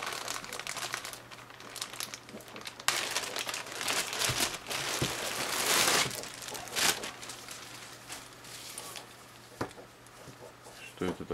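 Continuous crinkling and rustling of plastic wrapping from a newly unpacked pair of breeches with suspenders, close and busy, with occasional louder crackles over a faint steady hum.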